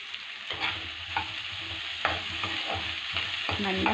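Onions fry in a pan, a steady close sizzle broken by several scraping stirs of a utensil, with no talking.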